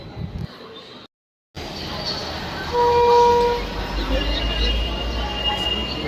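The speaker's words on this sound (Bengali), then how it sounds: "আমাদের ট্রেন কিন্তু এবার চলে আসলো স্টেশনে" A Kolkata–Puri train rumbles into a station steadily with a loud low roar, and a brief horn tone sounds partway through, following a short moment of silence.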